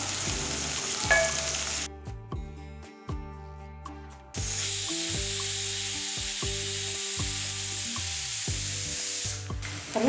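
Onions and curry leaves sautéing in a pan for a South Indian curry, a loud, steady close-up sizzle and hiss of frying oil with clattering stir strokes, briefly quieter partway through, with no voices.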